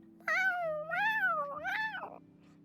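A cat meows in the Genshin Impact video game, giving three drawn-out, rising-and-falling calls in quick succession. They sound close and clear over a faint steady background hum, with no talking.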